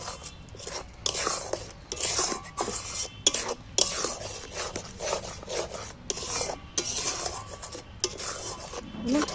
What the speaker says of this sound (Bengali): এবার আমি সব পরি সব মশলাগুলো নিয়ে ভালো করে কষাতে থাকবো